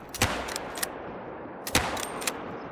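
Rifle shots ring out in theHunter: Call of the Wild, sharp distinct cracks in two short clusters of three, each close and loud over a quiet outdoor background.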